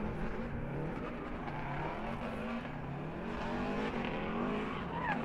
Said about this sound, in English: Scion Racing ready on Hankook Tire as the FRS of the Goosh.